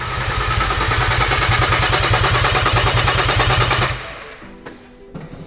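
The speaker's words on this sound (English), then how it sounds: "we could start cranking over the engine" Golf R engine cranking over without fuel, a fast rhythmic starter chug for about four seconds before stopping, followed by quiet clicks and faint handling noises.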